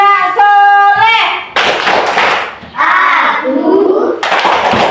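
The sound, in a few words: children doing the Tepuk anak soleh clapping chant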